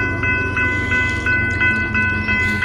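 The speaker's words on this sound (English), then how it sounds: "Alright guys, here comes this train." A southbound train approaching in Bunkie, Louisiana: a loud, steady rumble with rhythmic wheel clicks and sustained horn tones, heard alone without voices.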